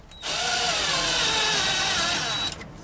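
A power drill drives a screw home while solar wiring is being fitted, a single close, loud whirring run lasting about two seconds that starts and stops sharply.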